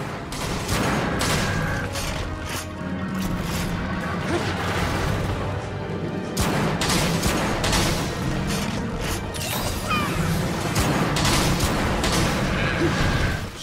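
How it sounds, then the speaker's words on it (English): Bombs exploding in the video game Monster Hunter 3 Ultimate, a dense, continuous stream of game-battle crashes, booms and impacts, loud and constant throughout. "there's three little bombs after falling at me. He can set them off with his chin."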